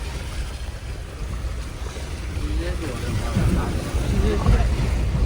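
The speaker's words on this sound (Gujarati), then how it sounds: "નદીમાં થઈને ચાલીએ છીએ." A vehicle pushes through a river, with water churning and sloshing under rushing wind noise, growing louder toward the end.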